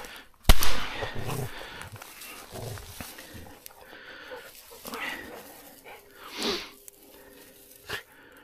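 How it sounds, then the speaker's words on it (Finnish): A hunter's close, sharp gunshot finishing off a wounded raccoon dog during a hunt, one loud crack early on, followed by rustling, faint voices and a few softer thuds. "Annas mä ammuun vielä kerran."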